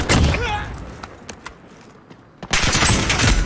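Bursts of automatic gunfire in a Modern Warfare gun game match: a heavy volley at the start, scattered single shots in a quieter middle stretch, then another loud sustained burst.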